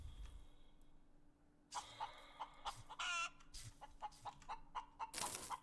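A chicken in the space survival game Breathedge clucks softly and repeatedly in a quick, faint, choppy run over a low background hum.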